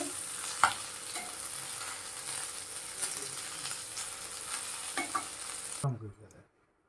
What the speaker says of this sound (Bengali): আমি এদিকে মাছটা ভেজে নিই ভালো করে